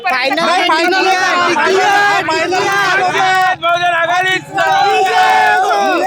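A crowd at an election victory celebration shouts and chants loudly and continuously at close range, with many voices overlapping in raised cheers.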